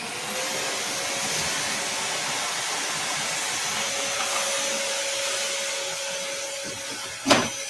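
A vacuum cleaner runs steadily while removing dust from a piece of furniture being prepped, a constant whooshing drone with a faint whine, ending in a brief sharp squeal.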